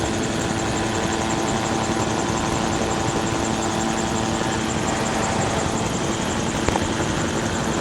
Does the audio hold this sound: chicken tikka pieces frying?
no